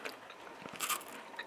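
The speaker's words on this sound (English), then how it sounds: "I gotta bite into this." A single crunchy bite into a chocolate treat, a quick crisp snap followed by brief chewing, close and fairly quiet, with no speech.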